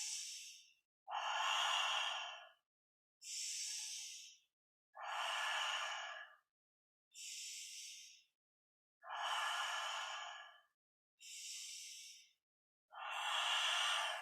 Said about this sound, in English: it's a very powerful, continuous circular breath. Inhaling nose, exhaling mouth.